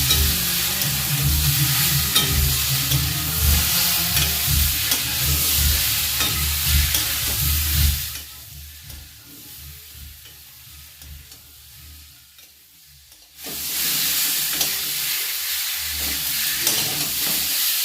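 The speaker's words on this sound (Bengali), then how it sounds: "এবার এটা দিয়ে ভালোভাবে নেড়ে নিয়ে আমি একটু জল দিয়ে দেবো" Tangra fish fries loudly in a pan with green chilli and garam masala, a steady sizzle with spoon stirring, then it drops to a quiet simmer for a few seconds before the sizzle surges back.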